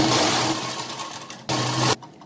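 Sewing machine stitching two cotton strips together for a small frock border, a steady close whir that stops briefly, then resumes in a short final burst before ending.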